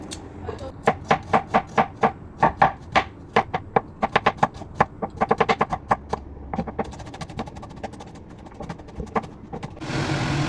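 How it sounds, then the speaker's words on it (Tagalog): Knife mincing garlic on a cutting board for beef meatballs, a rapid series of sharp, close chopping taps in uneven bursts, fading toward the end into a steady hiss. "So mag-mince din tayo ng garlic."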